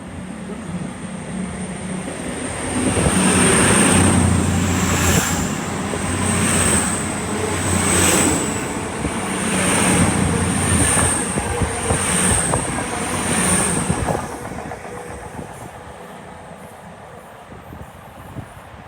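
A Class 221 CrossCountry diesel unit bound for Plymouth passes through Chesterfield station, a loud, close roar with rhythmic wheel beats and a high whine, fading over the last few seconds.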